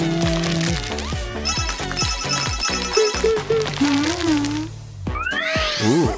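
Cartoonish ringing from a brand-new phone mixed with playful chiming tones and a swooping electronic jingle, loud and continuous over a busy, bright background of effects.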